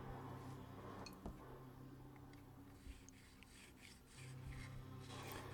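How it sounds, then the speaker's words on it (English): A small triangle file rasping across guitar frets, with steady, close scraping strokes that continue throughout at a moderate level. "Just 3 or 4 swipes on the top and bottom of each side with this file."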